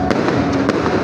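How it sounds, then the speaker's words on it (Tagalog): Fireworks explode over a city center in a yearly display at Araneta City, sharp booms and crackles in a dense rapid sequence, loud and close. "Take a look at this fireworks displays here in the heart of the city."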